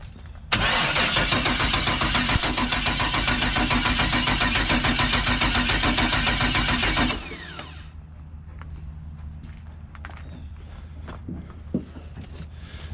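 A turbocharged LS-swapped Fox-body fires up abruptly and roars loudly at close range for several seconds, then settles into a quieter, rumbling idle.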